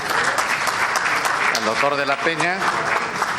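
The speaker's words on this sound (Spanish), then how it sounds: "Un aplauso, por favor" Applause from an audience at an obstetrics medical conference on sepsis, steady clapping filling the room while someone speaks over it.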